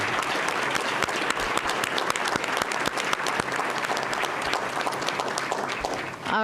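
A room of parents and staff at a school board meeting applauds honored students, a full, steady round of clapping that holds throughout and drops off abruptly at the close.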